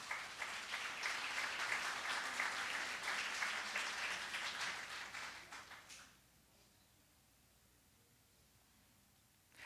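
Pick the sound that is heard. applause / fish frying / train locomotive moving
applause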